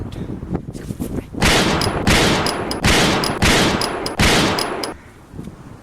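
Bursts of rapid automatic gunfire in a spy-themed video game, several loud sustained volleys in quick succession with brief gaps between them.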